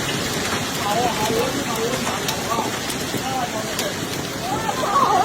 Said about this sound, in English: Heavy rain accompanied by flashes of lightning struck Wuhan City overnight